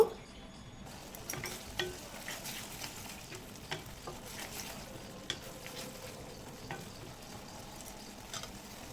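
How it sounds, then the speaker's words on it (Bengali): Spice paste being cooked down in a pan gives a faint, low sizzle with scattered clicks and scrapes from stirring, and a few sharper taps of a spoon against the pan. "আমরা পেস্ট করে রাখা মশলাটা দিয়ে দেবো মশলাটাকে দু থেকে তিন মিনিট একটু কষিয়ে নেব"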